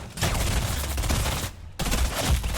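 Rapid bursts of submachine gun fire in the video game Fortnite, loud and close, with a brief pause before the shooting resumes.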